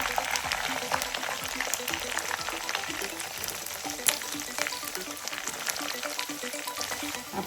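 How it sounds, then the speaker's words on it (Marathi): Green chillies and curry leaves sizzle steadily in hot oil while frying for homemade Diwali chivda, a constant crackling hiss with occasional stirring and no voice. "कडक होतोपर्यंत याच्यामध्ये मिरची पण टाकायची म्हणजे मिरची पण कडक होती"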